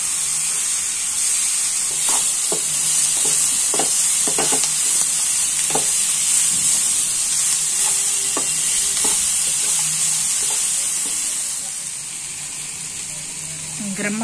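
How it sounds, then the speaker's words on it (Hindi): Tomatoes cook down in a mixed vegetable curry, with a loud steady sizzle and hiss and a series of sharp spoon taps and stirs against the pan, easing off toward the end; a voice is faintly present. "इसमें टमाटर डाल देंगे और टमाटर को गलने तक पकाऊंगी।"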